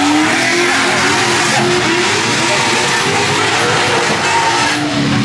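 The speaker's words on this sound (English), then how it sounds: "drift cars are drifting" Drift cars sliding around a track at Hyperfest, engines revving hard with tire squeal and skidding, a loud continuous roar close by with no talk.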